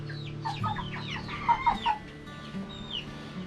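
Chickens cluck and squawk in a quick, busy flurry, with a rooster's call among them, close by against a steady background hum.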